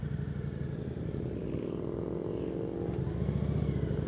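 A small-engined motorcycle rides along with a steady, close engine drone and a light rhythmic putter, holding a constant pace without strong revving, with no talk over it.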